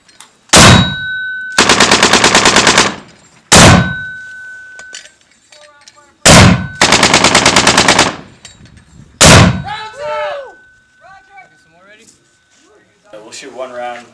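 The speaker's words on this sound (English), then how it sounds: "when we're given the command to fire, we'll fire" An artillery gun fires rounds during a live-fire military exercise: four loud, heavy booms at spaced intervals, separated by bursts of harsh buzzing sound, with voices talking near the end.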